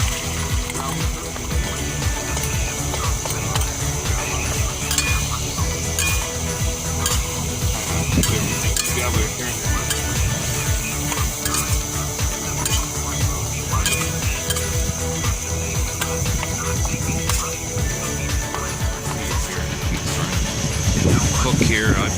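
Food sizzling and being stirred in a pan during outdoor cooking on a very windy day, with a steady busy mix of frying crackle, utensil scrapes and clinks against a constant rush of wind throughout.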